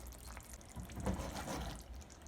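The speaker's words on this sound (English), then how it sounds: "And now add your tofu." Tofu pieces slide into a pot of boiling Szechuan mapo tofu sauce with peppercorn and chili, a steady wet bubbling and splashing swelling briefly at the moment of adding, fairly close and alone.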